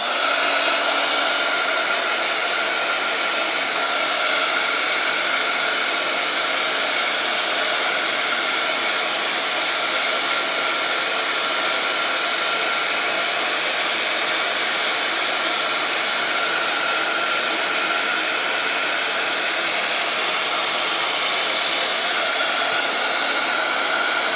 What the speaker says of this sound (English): I'm going to dry this page